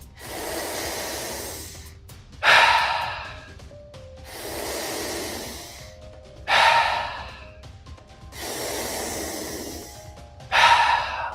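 Deep, forceful breaths during a recovery-focused breathwork session: three slow cycles of long noisy inhales and sharp, strong exhales, close and loud, with no talking.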